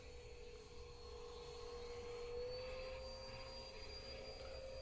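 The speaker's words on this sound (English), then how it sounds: "Trying to vacuum up all the loose bits of fluff and whatnot from" A vacuum cleaner sucks up loose bits of fluff, a faint, steady motor whine with a constant airy hiss running unbroken in the background.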